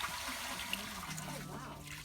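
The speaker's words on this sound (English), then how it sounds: "you can hear that water pouring into that cistern" Water poured through a hole into an ancient cistern at an outdoor nature reserve, giving a steady, hollow trickling rush that fills the short stretch at moderate loudness, with no talk over it.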